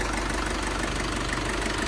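A manual Ford Everest turbo diesel idles with a dense, steady rumble and a faint knocking clatter, heard close and without pause.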